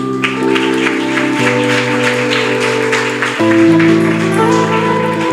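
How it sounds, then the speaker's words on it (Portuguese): A church congregation claps for Jesus during a worship service, steady applause mixed under sustained organ or keyboard chords that shift partway through. "Palmas para Jesus"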